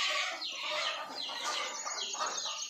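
Free-range desi chickens on a poultry farm in Hyderabad cluck and chatter continuously at close range, a busy, layered flock sound with overlapping calls and no talking.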